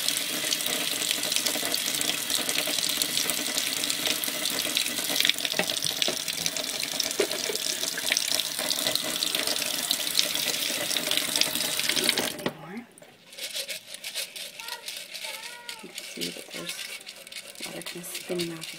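Tap water runs steadily into a sink to rinse sprouts, a loud continuous splashing rush that cuts off abruptly about two-thirds through, leaving quieter handling noises and faint rustling.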